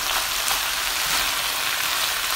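Vegetables and carrot stir-frying in a pan for rice and egg noodles with longganisa, a dense continuous hiss of sizzling oil, close and loud throughout, with no voices.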